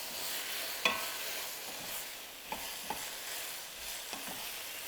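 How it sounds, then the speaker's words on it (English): Onions fry in a hot pan for green Thai curry, giving a continuous close sizzle with a few soft stirring taps and clicks scattered through it and no speech. "I'm going to go ahead and add my onions. Turn up my fire."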